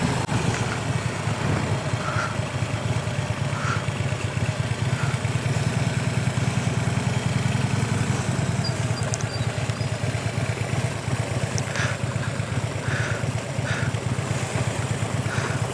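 A motorcycle idles and putters at low speed while weaving through cones with light rear brake, a steady low rumble with faint clicks over it, fairly close throughout.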